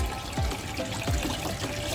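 Hot sauce pours back through a Hanchen HC-40 dual-head peristaltic pump into a container, a close, soft liquid trickle with a few gurgling drops over a low hum.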